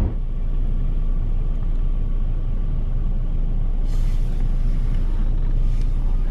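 A car driving through San Francisco in morning traffic, a loud continuous low engine and road rumble heard from inside, with brief hissing swells near the end.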